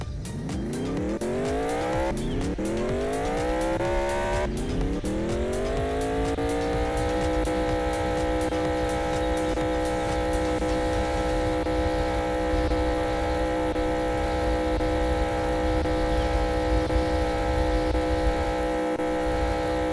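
The Dominator car drives in the Roblox Mad City game, its engine revving up through rising gear sweeps twice, then holding a steady high-pitched drone at top speed, loud and constant with no talk.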